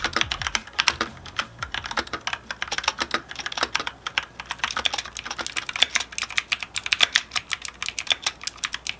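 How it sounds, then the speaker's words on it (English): Rapid, steady keystrokes on a Velocifire TKL02 wireless tenkeyless mechanical keyboard, crisp clicks tapping in a quick, continuous rhythm close up with no talking. "The typing experience was fluid and responsive"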